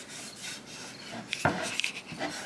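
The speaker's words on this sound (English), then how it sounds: "I'm just going to wipe it down with a tack cloth to try and remove" A tack cloth wipes over a sawdust-dusted wooden surface, making soft rubbing and rasping strokes close by, with a couple of brief sharper scuffs midway through the short, quiet stretch.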